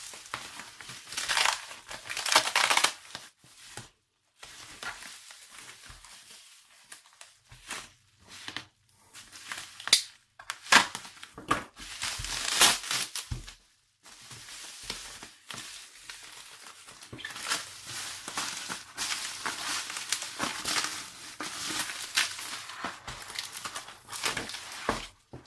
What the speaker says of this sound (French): encore plus de papier bulle